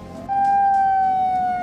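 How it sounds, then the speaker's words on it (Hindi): A steady, sustained coastal warning siren sounds loudly ahead of a cyclone, holding a nearly level pitch that drifts slightly downward. "समंदर किनारे सायरन बजाकर मछुआरों को तूफान के बारे में बताया जा रहा है।"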